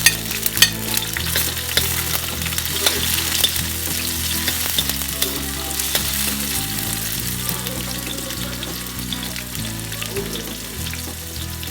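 Tomatoes stir-fried with onion for sautéed bean sprouts with ground pork, giving a continuous close sizzle with scraping stirs, under a steady background of music.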